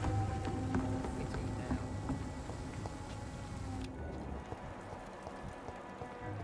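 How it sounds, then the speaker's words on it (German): Steady rain falls in the dark video game Vampyr, a dense continuous patter on surfaces at moderate level with faint background game sounds throughout, holding evenly for several seconds. "Tatsächlich fällt mir das zum ersten Mal auf, dass es regnet."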